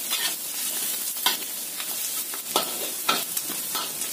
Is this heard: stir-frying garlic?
yes